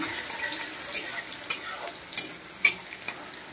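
Onions fry in a pan while being stirred, a soft continuous sizzle broken by four or five sharper scraping clicks of the utensil, close and moderately loud with no speech.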